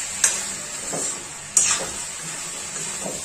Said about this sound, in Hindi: हम इसी तरह इसको फ्राई करेंगे फ्रेंड्स